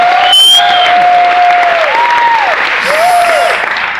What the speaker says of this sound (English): Big round of applause for all the organizers of Into Action.